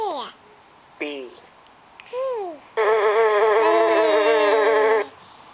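A young child imitates a buzzing bee with the voice, a sustained droning hum held for a couple of seconds after a few short vocal calls.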